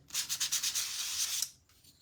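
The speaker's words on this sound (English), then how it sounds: "I like to do a little bit of sanding across the top of the paint" Sandpaper rubbed across the painted top of a handmade craft piece in quick back-and-forth strokes, close and fairly quiet, ending in a brief pause with no talking.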